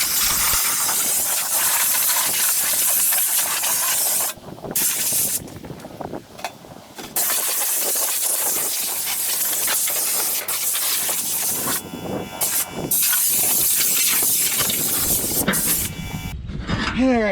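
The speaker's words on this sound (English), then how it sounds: "get the air hose hot and blow all the dust off of it from sitting in the barn all winter" An air hose blasts dust off farm equipment in a barn, making a loud, sustained hiss that stops and restarts in several bursts, close and harsh, with brief quieter gaps between blasts.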